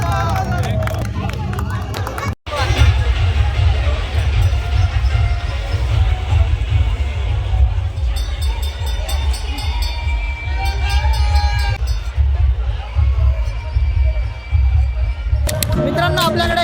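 A crowd at a Ganpati festival quiz applauds and cheers with loud, dense clapping that carries on under continuous hubbub and voices. Near the start there is a brief sharp break, and the noise swells again at the end.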